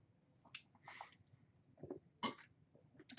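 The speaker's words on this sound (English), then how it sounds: "I'm in the coughing spiral." A person coughs in a fit: several separate harsh bursts, close and fairly quiet, spread unevenly with short pauses between them.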